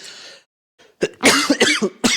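A run of harsh, wet coughs from someone with a cold, several bursts in quick succession after a brief faint sound, close and fairly loud.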